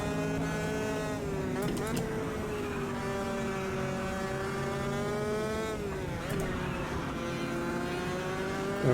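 Mercedes-AMG GT3 race car engine in the Automobilista 2 racing game, a steady droning growl whose pitch sweeps up and down through gear changes, with someone talking over it.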